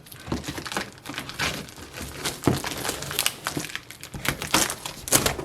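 A blade cuts along the edge of a shipping package, producing close, irregular crinkling and tearing of plastic and cardboard in quick repeated bursts.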